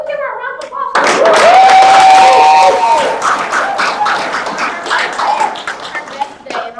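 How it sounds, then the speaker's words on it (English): Close, loud clapping and applause from a small crowd with cheering and a whoop, sustained then trailing into scattered claps and voices. "can we give her a round of applause"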